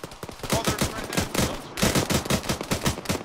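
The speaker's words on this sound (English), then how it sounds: "Shots close! Whoa. Behind us!" Rapid bursts of close gunfire crack in quick succession, a dense rattling volley that pauses briefly and resumes, loud and sharp against the open air.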